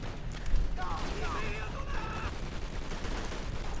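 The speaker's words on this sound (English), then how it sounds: "Sometimes I will blind fire from the hip because it's easier." Blind hip-fire from a gun in Call of Duty: World at War rattles out as a dense burst of rapid gunfire behind someone talking, continuing steadily at moderate loudness.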